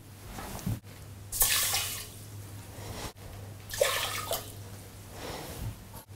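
Warm water is poured into a pot of millet for a breakfast porridge, arriving in two or three separate splashing pours with short pauses between them, close by and with no talking.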